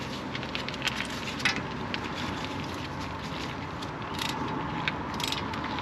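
Ratchet tightening a bolt on the front brake of a Kia Rio S, a close, continuous mechanical clicking and grinding, steady and moderately loud with a few sharper ticks.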